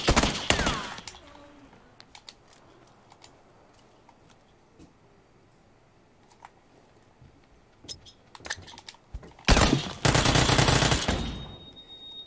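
Belly gun fired in a shooter video game: a sharp burst opens the clip, scattered faint clicks and short pops follow through a quiet stretch, then a loud sustained rapid-fire volley hits near the end.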